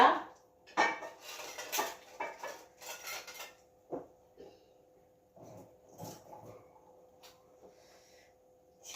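A spoon clatters against a cooking pot of Kerala-style boiled tapioca, with several sharp metallic knocks and scrapes up close in the first few seconds, then quieter scattered clinks with brief pauses between them.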